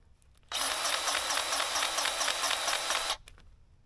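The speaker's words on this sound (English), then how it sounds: "the battery powered gun is wonderful compared to a hand pump" A battery-powered grease gun greasing a Kubota KX-040 excavator whirs loudly and steadily for about two and a half seconds up close, starting and stopping abruptly.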